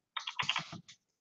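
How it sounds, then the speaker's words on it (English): A short burst of quick, soft keystrokes on a computer keyboard, close and quiet, with one more tap at the end. "I'm typing in his name"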